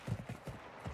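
Footsteps in the shooter game Warzone 2, a quick run of about six soft, low thuds in an even trotting rhythm, fairly close and alone without talk.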